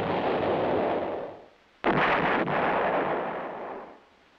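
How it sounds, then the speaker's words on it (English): An M110 self-propelled 8-inch howitzer fires: a heavy, booming blast rolls out and fades, a brief gap follows, then a second sharp, powerful report erupts and rumbles away, loud and outdoors with no voices. "The self-propelled 8-inch howitzer M110 employs the same tube as the towed weapon."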